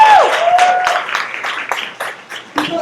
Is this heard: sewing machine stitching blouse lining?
no